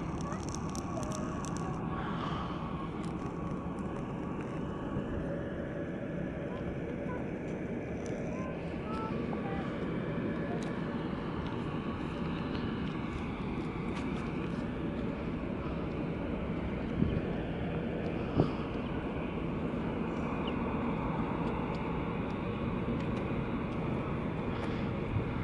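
A JetBlue airliner at Salt Lake City International Airport gives a steady, distant low rumble that lasts throughout, mixed with wind noise and a faint background voice.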